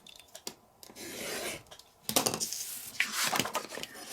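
Scissors or a blade trimming leftover cardstock while making a mini tablet cover, with dry rasping cuts and paper rubbing, quiet at first and then louder and steadier in the second half.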